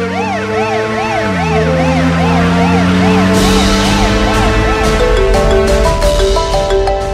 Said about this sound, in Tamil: ஆனா அர்ஜுனும் மத்தவங்களும் சேர்ந்து எல்லாரையும் ஆம்புலன்ஸ்ல ஏத்தி கொண்டு போயிட்டாங்க